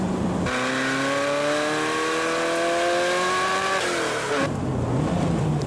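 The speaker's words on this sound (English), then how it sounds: "This corner's rather slippy" A racing car spins its wheels through a slippery wet corner, the engine revving hard and climbing steadily in pitch, loud and close, before easing off abruptly near the end.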